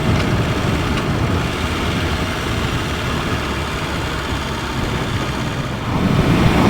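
A BMW S1000 RR motorcycle engine runs with a steady, dense roar at a constant pitch, loud and close, swelling slightly near the end, no voices.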